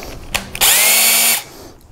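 A power drill spins briefly at full speed while a pocket hole bit for a Kreg K4 pocket hole jig is fitted, preceded by two short trigger blips, then a loud, steady whine that cuts off after under a second, close and alone.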